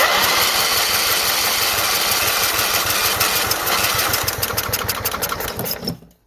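A Kohler 14HP engine on a Toro Proline walk-behind mower with a 44-inch deck runs loud and close with a rough, steady chatter, then sputters and dies out after about six seconds.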